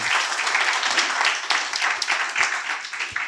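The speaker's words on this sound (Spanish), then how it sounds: "Dele un fuerte aplauso al Señor." A church congregation applauding during a Spanish-language service, with brisk, dense clapping from many hands that runs steadily throughout, moderately loud and without talk.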